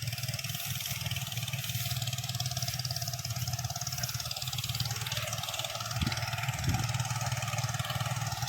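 A large rice harvesting machine engine runs steadily nearby on a farm, a continuous low rumbling drone with a slight rise in revs toward the end.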